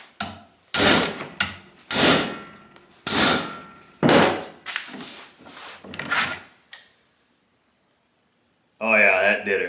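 Heavy hammer blows strike an antique metal nail puller under restoration, a series of loud, ringing impacts roughly a second apart, followed by a pause and a sharper burst at the end.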